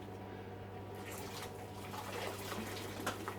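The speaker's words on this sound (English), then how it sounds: "Oh, that's hot water." Hot water running from a kitchen tap in a steady splashing stream, quiet and close, with no voices.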